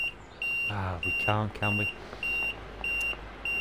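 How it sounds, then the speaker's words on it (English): An intermittent electronic buzzer in a Class 323 electric train cab in Train Sim World 5 beeps in short, evenly spaced pulses, steady and fairly loud, while someone talks over it. "Stop that bloody buzzing noise."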